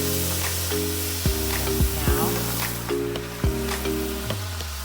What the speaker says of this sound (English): Oh, listen to that sizzle. Onions and peppers and spice.